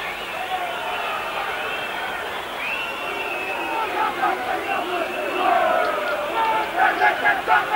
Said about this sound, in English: Kevin Tamati, will lead the New Zealand test side in the haka, the Maori war cry